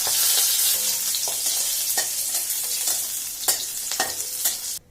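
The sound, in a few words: garlic and chilies frying in a pan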